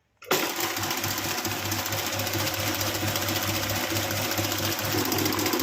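An electric beater whips black forest cake batter at high speed, starting abruptly and then running as a steady, loud, close whirring drone for several seconds with no talk.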